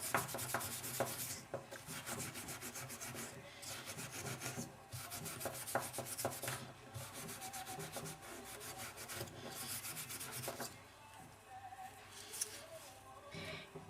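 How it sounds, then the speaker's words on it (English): A sheet-metal jewelry finding is hand-polished in steady, rhythmic rubbing strokes that come in repeated bursts with short pauses. The sound is close but quiet. "You want to polish it until you're happy with the shine."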